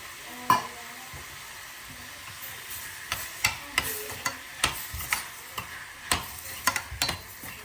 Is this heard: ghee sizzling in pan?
yes